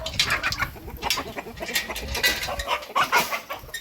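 Cochin chickens cluck and squawk nearby in a busy, overlapping flock chatter with no talking.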